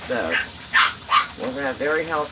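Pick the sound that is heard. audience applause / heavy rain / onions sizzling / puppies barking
puppies barking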